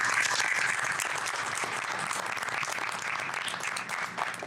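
A large crowd at a naval change of command ceremony claps in sustained, dense applause, loud and steady throughout with no pauses.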